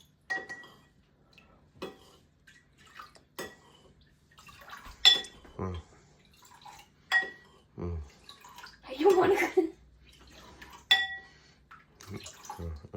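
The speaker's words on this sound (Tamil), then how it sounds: "கொஞ்சம் தண்ணி ஊத்தா உள்ள." Water being poured into kannaari (nannari) juice in a kitchen, soft splashing and pouring amid clinks of utensils and dishes, with people talking nearby.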